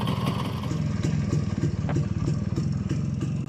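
An Izh Planeta 350 motorcycle engine idles steadily, with a throbbing low-pitched pulse and a mechanical clatter layered over it, heard close up and loud, and no one speaks.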